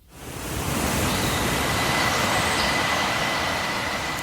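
The Dormilón river's waters meet the powerful flow of the Samaná river, giving a loud, steady roar of rushing water that swells in and then holds constant.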